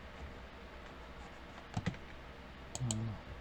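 A couple of brief, quiet key presses on a computer keyboard for a Ctrl+F shortcut, two small clusters of clicks in an otherwise hushed room.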